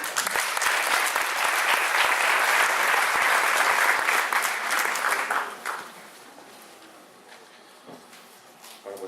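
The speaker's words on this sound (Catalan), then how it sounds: "Fort aplaudiment." Loud applause from an audience at a political campaign event, a dense wash of clapping for about five seconds that then fades to scattered claps and quiet room sound.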